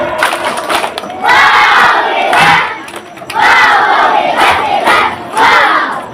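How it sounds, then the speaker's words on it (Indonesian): A crowd at a church children's and youth choir competition cheers and shouts in loud rhythmic bursts, rising and falling in three or four waves, with clapping mixed into the roar. "mari kita berikan tepuk hebat"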